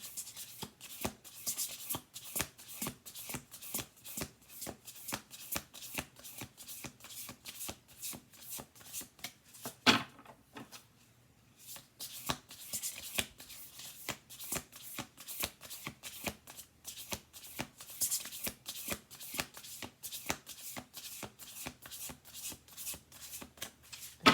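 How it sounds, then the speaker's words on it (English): Oracle cards riffle and snap in rapid repeated bursts, close and crisp, with a brief pause near the middle before the shuffling resumes. "going to do two more shuffles here."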